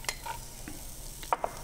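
Chorizo and fennel sauté in a pan, a faint low sizzle under a few quick clinks and scrapes of a utensil, brief and close, with no speech.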